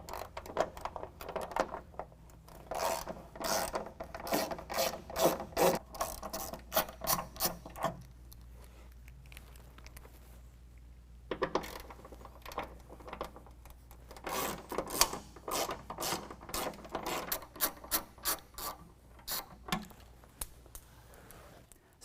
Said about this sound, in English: now we need to remove these bolts from the pinch weld